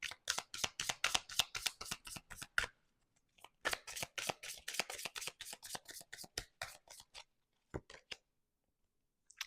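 A deck of oracle cards is shuffled in quick riffling bursts, close and crisp, with a brief pause midway and a few scattered flicks near the end; no speech.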